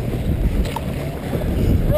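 Canoe paddles stroking through river water on a guided float trip, a steady low churning wash with faint splashes running continuously under light wind, with no talk over it.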